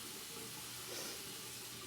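Hot water runs steadily from a tap into a sink, a close, even hiss and rush with no talking.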